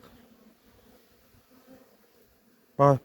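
Honeybees buzzing near the hive during a brood flight, heard as a faint low hum that ends in a short, loud, close buzz.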